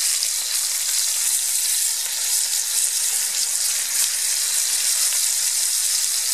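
Beef for Zwiebelrostbraten sears in a hot pan with a loud, continuous hissing sizzle that holds steady throughout, with no voices over it.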